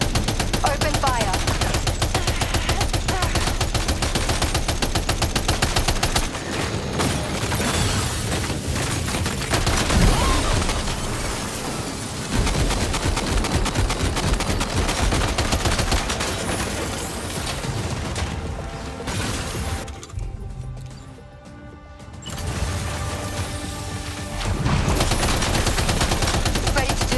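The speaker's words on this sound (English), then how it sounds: "Open fire." Heavy, nearly continuous gunfire and automatic weapon bursts in the video game Death Stranding 2, loud and sustained with a brief lull near the end before firing resumes.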